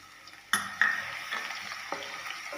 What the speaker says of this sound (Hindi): अब डालेंगे लहसुन जो हमने पीस कर रखा है दरदरा।